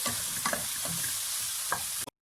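Chopped vegetables for a veggie samosa filling are stirred in a hot pan, with a continuous sizzle broken by a few scraping stir strokes. The sound cuts off abruptly at the end.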